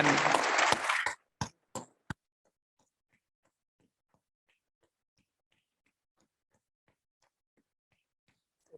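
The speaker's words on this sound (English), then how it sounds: "let's just give a round of applause before we conclude" Audience applause at a lecture-style prize presentation, a dense burst of clapping for about a second followed by a few scattered final claps, then near silence.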